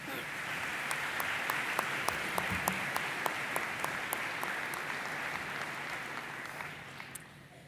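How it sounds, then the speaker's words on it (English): Sustained applause from a graduation audience at the College of DuPage commencement, dense steady clapping with sharper individual claps standing out, fairly loud throughout and tapering slightly near the end. "Let's give another round of applause for Alexis and Megan."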